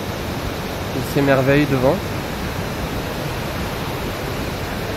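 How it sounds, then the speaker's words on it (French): A mountain torrent on the Tour du Mont Blanc rushes in a steady, loud, broadband roar throughout, with someone briefly speaking over it. "L'explorateur est en pleine découverte de ce qu'on pourrait appeler un torrent."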